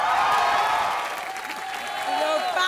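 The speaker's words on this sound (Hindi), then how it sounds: "जोरदार तालियां हो जाएं।" A studio audience on an Indian television comedy show applauds steadily for the whole stretch, a broad wash of clapping mixed with background music and some voices.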